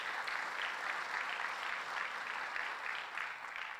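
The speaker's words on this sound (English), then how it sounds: "Let's give them a round of applause." Steady applause from an audience at a government funding announcement, a continuous patter of many hands clapping at moderate volume, slightly distant, with no talking over it.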